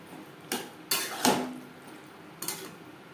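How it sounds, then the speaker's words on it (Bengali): A few separate metal scrapes and clanks from a spoon turning okra with spices in a pan over medium flame, close and moderately loud against a quiet background. "মিডিয়াম ফ্লেমে মশলার সাথে ভেন্ডি আরও 3-4 মিনিট নাড়াচাড়া করে দেব।"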